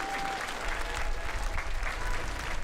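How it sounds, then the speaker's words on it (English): Audience applause at a 2026 high school and adult school graduation ceremony, a steady dense wash of clapping from a large crowd, sustained at even loudness throughout. "give all the people behind the scenes who aren't out here with us a big round of applause"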